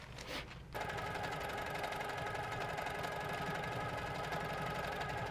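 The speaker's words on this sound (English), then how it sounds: "Let's do some stitching." A sewing machine stitching a micro-quilt starts after a brief pause and then runs steadily with a fast, even mechanical chatter, close and continuous.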